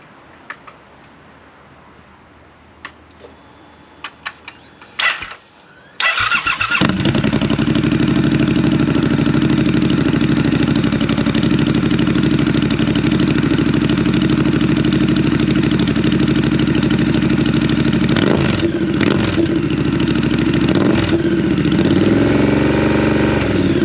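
A few clicks and taps, then a Triumph Scrambler 1200 XE motorcycle with an upgraded Triumph exhaust fires up and runs loudly and steadily close by, with brief revs near the end.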